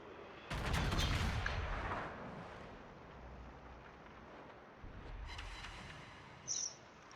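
Naval gunfire in a warship video game, with the battleship North Carolina firing HE shells: a heavy booming salvo rumbles, fades, then a second lighter blast and a short sharp crack follow, all fairly faint.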